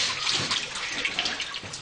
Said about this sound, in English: Dump the water into my bucket,